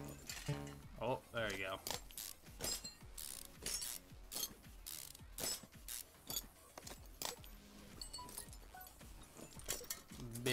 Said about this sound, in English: Alright, take out the gearbox.